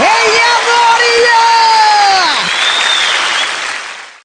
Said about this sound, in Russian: Порвите меня аплодисментами